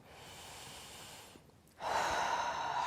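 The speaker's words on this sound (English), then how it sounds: "Deep breath in" A slow, deep breath drawn in during a guided meditation. Soft airy noise fades to near silence, then a louder, rushing inhale swells in and holds to the end.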